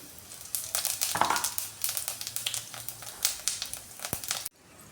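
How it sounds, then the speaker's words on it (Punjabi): Cumin seeds crackle and sizzle in hot oil in a pan on a gas stove, a steady busy frying hiss with small pops throughout, close and fairly loud, cutting off abruptly near the end. "ਤੇਲ ਗਰਮ ਹੋ ਗਿਆ ਇਹਦੇ ਵਿੱਚ ਪਾਵਾਂਗੇ ਜੀਰਾ"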